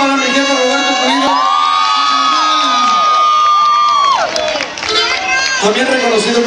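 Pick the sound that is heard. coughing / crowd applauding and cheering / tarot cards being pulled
crowd applauding and cheering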